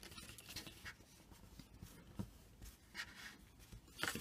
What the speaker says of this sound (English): we'll just smooth that glue out under the card using my bone folder